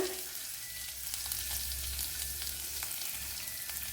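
Fenugreek seeds sizzle in hot oil for a Kerala gooseberry curry, a steady close frying hiss with a few faint stirring clicks and no voices.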